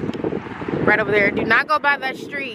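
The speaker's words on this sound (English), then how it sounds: "Hopefully y'all can hear me because it is a little windy" Gusty outdoor wind buffets the microphone near trees along a street, a steady low rumble running under someone talking close up.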